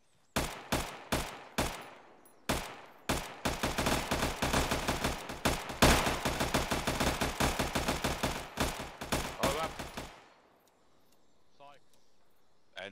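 A full magazine is emptied in the military game Arma 3: a few spaced single shots, then a rapid steady string of loud cracks lasting several seconds before stopping abruptly into a quiet tail.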